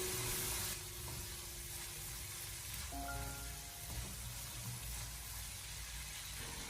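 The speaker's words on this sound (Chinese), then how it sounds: "然后再继续的翻炒一小会，把蚝油的酱香味炒出来" Salted fish and eggplant casserole stir-fried in a wok with oyster sauce, garlic and diced salted fish, giving a steady close sizzle and frying hiss with a few scraping clinks of the spatula partway through.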